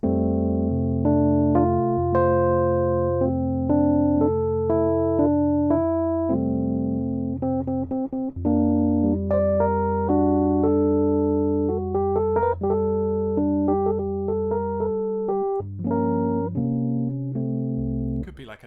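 A slow, lyrical orchestral melody by Prokofiev moves over sustained low bass notes, gentle and flowing, with a brief run of quicker notes near the middle.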